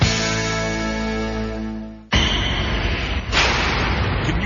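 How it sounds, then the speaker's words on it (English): A heavy metal jail cell door slams shut with a sharp, ringing clang, followed by a noisy rumbling reverberation and a second thud. "It's a jail cell door getting slammed shut after you've been booked for DUI."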